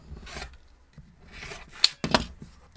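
Fabric for a diamond star quilt block being trimmed, heard as a few soft rubbing cuts and then a couple of sharper snips near the end, close and fairly quiet.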